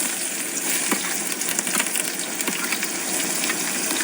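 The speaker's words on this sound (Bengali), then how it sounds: "কড়াইতে তেল গরম হয়ে গেছে, এবার প্রথমে দিয়ে দেবো পেঁয়াজ।" Onions hitting hot oil in a wok, a steady broadband sizzle that holds evenly throughout with a few faint clicks, close and fairly loud with no voices.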